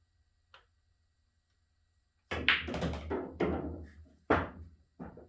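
During a pool lesson, a cue ball is struck on the table: one faint click, then after a pause a series of sharp, close ball knocks and thumps at irregular intervals, with no talking.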